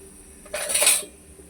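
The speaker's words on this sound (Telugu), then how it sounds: "ఇవి వేగిపోయి మనం మిక్సీ గిన్నెలోకి తీసేసుకుందామండి" Fried ingredients, including tamarind, are scraped into a mixer grinder jar, giving one short burst of metal scraping and clinking, close and fairly loud against a quiet background.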